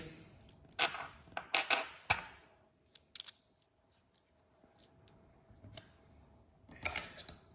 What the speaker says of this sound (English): So we just install the screws here.